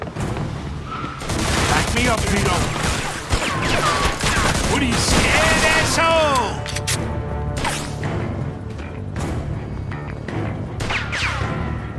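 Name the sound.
gunfire in the video game Mafia 2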